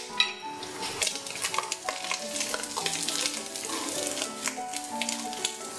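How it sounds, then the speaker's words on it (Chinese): Sour bamboo shoots and chili stir-frying in a hot wok, a steady sizzle with repeated scraping and clinking of the spatula against the pan throughout, fairly close and without talk. "居然是要把这个酸笋呢把它爆香"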